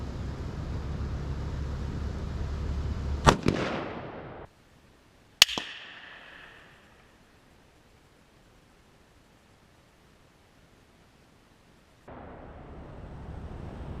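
.308 Winchester rifle shots with heavy bullets at a shooting range: two sharp, loud cracks a couple of seconds apart, each with a brief ringing tail, then near silence.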